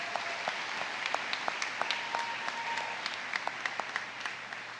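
Steady applause from a crowd at a high school graduation ceremony, a dense, even wash of clapping that holds at moderate volume throughout with a few sharper individual claps standing out.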